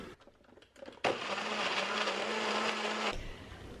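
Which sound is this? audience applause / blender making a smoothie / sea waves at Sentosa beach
blender making a smoothie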